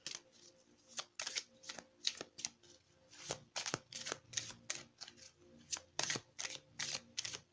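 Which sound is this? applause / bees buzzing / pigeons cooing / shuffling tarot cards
shuffling tarot cards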